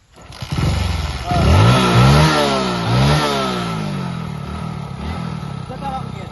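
A motorcycle engine starts and revs up several times with rising and falling whines, then settles into a steady idle, with voices talking over it.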